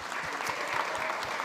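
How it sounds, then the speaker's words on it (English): Brief, steady applause from a seated audience at a food summit, with many hands clapping together in a dense patter. "Give them a round of applause."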